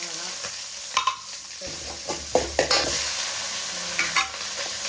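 Mustard seeds and chilies frying in a pan for potato kurma, a steady sizzle with several sharp crackles and pops as the seeds burst, heard close with no talking.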